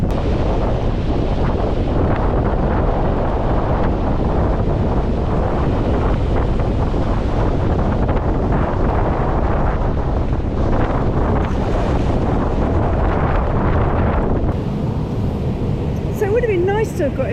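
Sea waves at an outdoor swimming spot in rough, strong wind, with a loud, constant roar of gusts buffeting the microphone and surf crashing close by the whole time.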